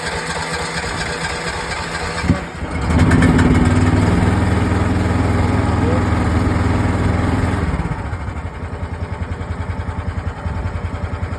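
A small diesel engine on a Chinese-made AGT mini excavator roars loudly and steadily close by, then settles into a rougher, pulsing idle near the end.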